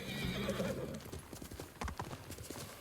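A horse in the game Ghost of Tsushima neighs loudly at first, followed by a steady clip-clop of hooves trotting on the ground, with soft game ambience around it.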